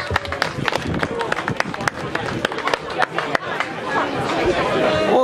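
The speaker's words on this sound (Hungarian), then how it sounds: "Nagy tapsot Olga néninek!" Applause from a crowd at a goulash festival, with a stretch of scattered clapping followed by louder, denser applause and crowd chatter, while a voice speaks over it.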